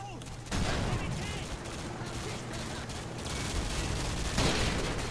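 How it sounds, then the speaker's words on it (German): Loud gunfire crackles throughout a battle in the shooter game Modern Warfare 2, with a dense, sustained barrage of shots and a voice speaking briefly over it. "Ich habe gerade einen Sniper-Schuss gehört."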